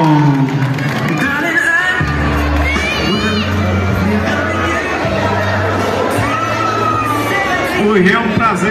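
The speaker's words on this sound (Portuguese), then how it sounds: "Uma salva de palmas pro Wellington!" A crowd at a birthday celebration in central São Paulo cheers and shouts loudly, with whoops and children's voices over a backdrop of clapping and music.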